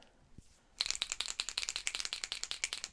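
After a brief quiet moment, a rapid, steady rattling of a small hard ball knocking inside a paint marker as it is shaken close by.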